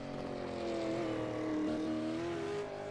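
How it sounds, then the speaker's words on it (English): Supercar engines in a racing video game at Montreal drone steadily and loudly, several cars held at moderate revs with gentle rises and dips as drivers short shift off the throttle, no one speaking. "You can hear the drivers holding off the throttle, short shifting, making sure they've got it settled before they light it up."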